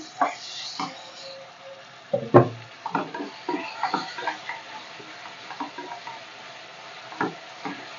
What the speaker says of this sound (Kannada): ಇವಾಗ ಚೆನ್ನಾಗಿ ಟೊಮೊಟೊ ಬೇಯಿಸ್ಕೊಳ್ಳೋಣ